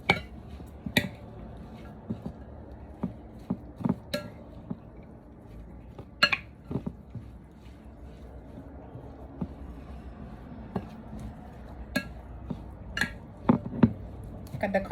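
Garlic and shredded green papaya salad ingredients being mixed in a bowl with a utensil for Thai green papaya salad, producing scattered clinks, taps and soft squishy knocks at an irregular rhythm, fairly close and quiet.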